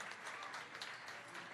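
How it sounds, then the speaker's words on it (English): Faint, steady applause from an audience at a tech demo event in Minnesota, a dense wash of many hands clapping at a distance with no pauses. "Let's give them all a really great round of applause."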